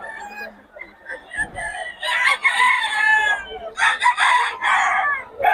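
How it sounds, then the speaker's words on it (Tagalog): Fighting roosters on a farm crow and cluck close by, several loud overlapping calls from about two seconds on, with a faint voice under the birds at the start. "pogi ng mga manok ni Boss Batang mga idol"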